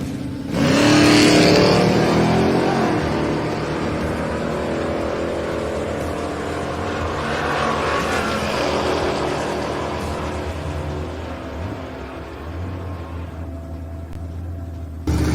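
Drag racing pass with a 1994 Ford F-150 and a Ford Econoline at Sick Summer: loud engines roar through the launch, then a sustained drone that fades into a distant hum.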